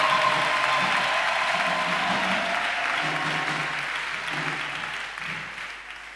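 A congregation at a Friday night prayer service in Abidjan applauds and cheers in acclamation, a sustained dense clapping with crowd voices beneath, loud and steady before easing off slightly.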